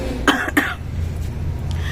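Two sharp coughs close together near the start, fairly near and clear, followed by a low steady room hum with no talking.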